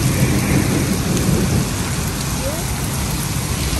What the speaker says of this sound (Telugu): ఇక్కడైతే బాగా పడుతుంది ఈరోజు వర్షం